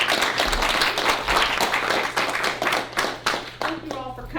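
Audience applause at an evening library arts and music program, dense steady clapping from a crowd that fills the clip, close and fairly loud, tapering slightly near the end.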